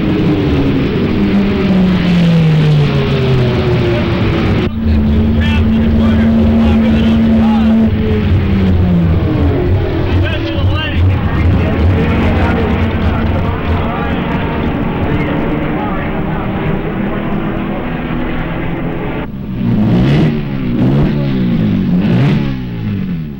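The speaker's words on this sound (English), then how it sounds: "The rotary engines are running to perfection." Mazda RX-7 rotary-engined IMSA GTU race cars at the 1979 24 Hours of Daytona, their loud, high-pitched engines droning, rising and falling in pitch as they accelerate and pass close by, with a fresh surge of revving near the end.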